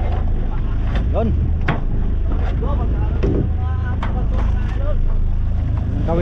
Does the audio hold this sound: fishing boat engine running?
yes